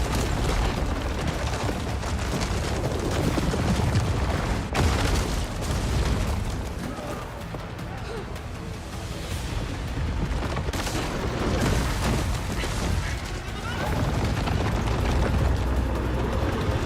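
Heavy gunfire and explosions in Horizon Forbidden West form a dense, loud, continuous barrage of booms and bursts with rapid overlapping blasts throughout, with possible faint voices underneath.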